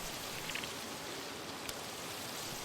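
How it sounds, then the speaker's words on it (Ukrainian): Evening rain patters on window glass as a soft, steady hiss with faint scattered drops, quiet and even from start to end. "стукіт дощу об скло"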